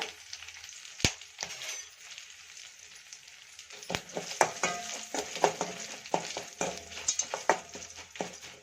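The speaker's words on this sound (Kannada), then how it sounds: "ಹಾಗೆ ಇಲ್ಲಿ ಕರಿಬೇವು ಸ್ವಲ್ಪ. ಈಗ ಚೆನ್ನಾಗಿ ಫ್ರೈ ಮಾಡ್ಕೊಳ್ಳೋಣ." Cumin seeds and curry leaves fry in a pan for savory pongal, a crackling sizzle broken by sharp spoon knocks and scrapes against the metal, growing busier as stirring continues.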